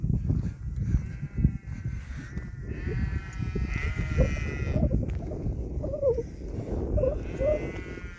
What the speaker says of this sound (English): Sheep are very active this morning.